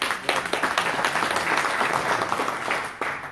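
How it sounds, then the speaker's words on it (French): At a world Amazigh congress, the audience applauds in honour of mothers and grandmothers, a full, fairly close burst of many clapping hands sustained throughout with a few sharper individual claps. "Mesdames et messieurs, je vous demande d'applaudir nos mères et nos grands-mères,"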